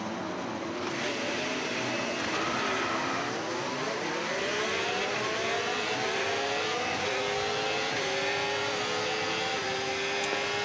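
Formula 1 race cars in a racing video game on a warm-up lap on hard tyres: a continuous high engine whine that rises and steps through gear changes, with no talking.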